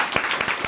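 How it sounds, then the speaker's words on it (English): A school event audience claps in a steady, dense burst of applause, the many hands blending into an even wash from a room full of people, with no voices standing out. "Let's give them another round of applause."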